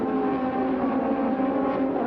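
Formula One race car from the 1987 Brazilian Grand Prix holding a steady, loud high-pitched engine drone through fast corners, continuous and unbroken for the whole stretch, no commentary over it.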